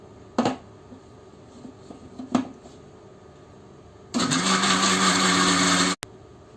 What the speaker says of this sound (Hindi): इस तरह से करने के बाद इसको हम चला लेंगे मिक्सर में।